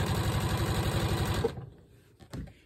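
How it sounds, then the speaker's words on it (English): A sewing machine runs fast with a steady rhythmic chatter while stitching quarter-inch seams on quilt binding, then stops abruptly, leaving faint handling sounds of fabric. "put my presser foot, 1/4 inch, and sew."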